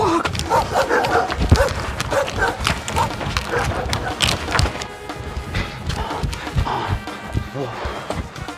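Dogs bark repeatedly in an outdoor scene from a Haryanvi feature film, loud and close, mixed with excited shouting voices throughout.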